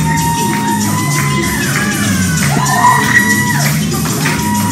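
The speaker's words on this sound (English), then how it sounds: "Oh my god, there's so much cheering." A crowd at a Bollywood dance performance cheers, whoops and shouts continuously, with rising whistles and yells layered over music in a loud, lively hall.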